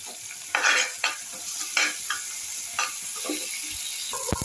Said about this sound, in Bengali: কারি পাতা দিয়ে দিচ্ছি।